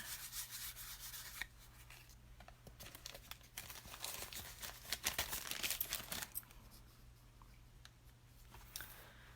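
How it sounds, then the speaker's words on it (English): Soft, steady rubbing and light crinkly scraping as card stock is wiped down with an embossing powder tool before heat embossing for a Halloween shutter card, close and continuous over a faint low hum. "So I'm going to wipe it with my embossing buddy here."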